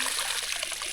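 Water trickles and splashes steadily close by while someone washes their face, a brief, continuous bright watery wash with no voices.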